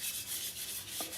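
A camping car trailer surface rubbed in circles, making a steady soft swishing with rhythmic pulses, close and quiet, ending with a faint knock near the end.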